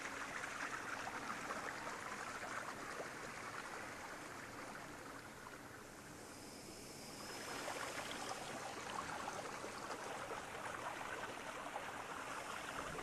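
River water flows continuously, a soft, even broadband rush that eases slightly midway and then resumes, with no voices.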